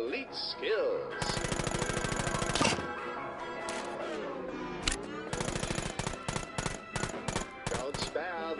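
Rapid automatic gunfire from a PlayStation VR shooter game, several loud sustained bursts of dense repeated shots separated by pauses, with game music and effects running underneath.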